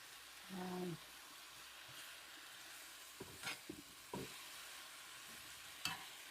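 Vegan chitlins are broken up and stirred in a pan; faint background sizzling is punctuated by a few sharp scraping and clacking stir strokes, with a brief low voice near the start.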